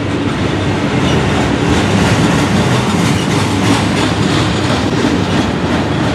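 A CN train passes through Sarnia, Ontario on the Strathroy Subdivision, a loud, steady roar of rolling wagons with clickety-clack wheel rhythm heard up close throughout.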